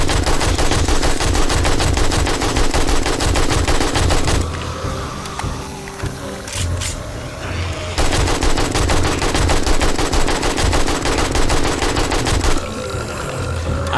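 Loud, rapid automatic gunfire in the video game 7 Days to Die comes in long sustained bursts, broken by a brief lull before the firing resumes, close and dominant throughout.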